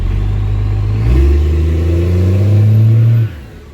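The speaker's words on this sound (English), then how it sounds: "I'm gonna give it one little burnout just to show you guys how, you know, that it'll do it" A car revs hard while doing a burnout and spinning its tires, the engine roaring loudly and steadily with a surge in pitch midway before cutting off abruptly near the end.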